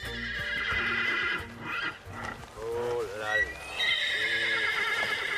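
A horse neighs loudly over background voices and music during a cross-country ride, with whinnies rising and falling near the mic and a few hoof-like knocks between calls.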